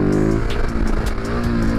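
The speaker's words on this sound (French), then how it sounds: "Vous n'allez pas commencer à mettre des gros coups d'accélérateur à lever comme ça là" A motorcycle engine runs close and steady, its pitch rising and falling as the throttle is blipped in short revs.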